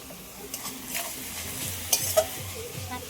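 Greens (shak bhaja) fry in a pan with a light sprinkle of turmeric, a soft steady sizzle under gentle stirring, with a couple of sharper utensil clicks near the end.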